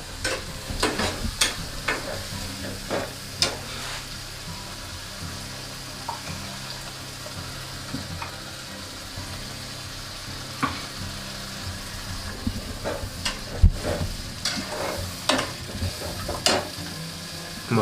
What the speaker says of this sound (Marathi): त्याची वगारणी त्याची फोडणी दिलेली आहे